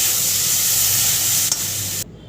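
Onion paste stir-frying in a pan after ginger and garlic paste for a kidney bean (rajma) curry, giving a loud, steady sizzle and hiss close up that cuts off abruptly near the end.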